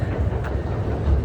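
A train rolls past near a riverbank in Kyoto, a steady low rumble with faint rail clatter, close and fairly loud, with no talking.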